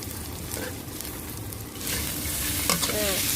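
Garlic and black pepper stir-fried in a wok or pan: a steady hiss of frying under the scrape and rustle of stirring, growing a little louder partway through, with no talking.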